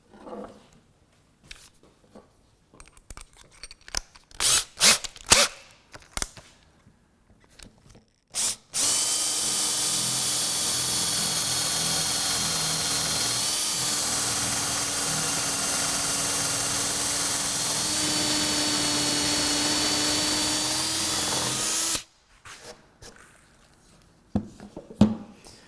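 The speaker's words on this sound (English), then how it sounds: "I'm going to use a 3/8 bit to drill these holes" Power drill with a 3/8 bit boring holes in a clamped workpiece for a marshmallow catapult, a steady loud whine held for about thirteen seconds, with scattered knocks and handling noises before and after.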